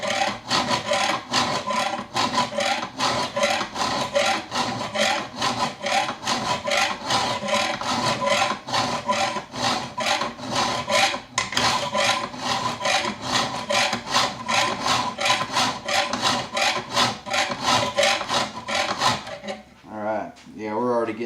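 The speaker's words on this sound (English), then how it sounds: "So I just file up. And it'll quickly start the plunge line." A hand file strokes rhythmically across the steel of a santoku paring knife blade to cut a plunge line, giving fast, even rasping passes up close that stop briefly near the end.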